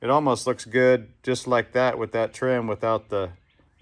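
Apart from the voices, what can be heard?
No everyday noises stand out.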